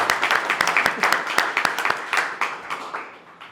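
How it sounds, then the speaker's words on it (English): Supporters at a candidacy announcement for Albany City Auditor clap for a loved one, crisp individual hand claps over a full bed of applause that gradually thins and tapers off toward the end. "Kaylee deserves a round of applause, to be very clear."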